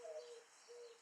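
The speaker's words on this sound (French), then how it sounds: "la tourterelle est d'accord" A turtle dove coos in two drawn-out, soft tonal phrases separated by a short gap, faint against a quiet indoor background with no talk.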